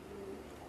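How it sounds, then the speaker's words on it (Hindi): Domestic pigeons coo in a short, soft, low hum, faint and close against a quiet background. "न्यू कबूतर, ये न्यू बॉर्न हुए हैं"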